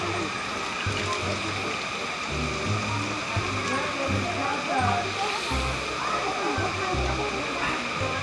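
Spring water from Santa Lucia Falls on sacred Mount Banahaw in Dolores, Quezon rushes and splashes in a steady, close, continuous wash, with low voices murmuring beneath it.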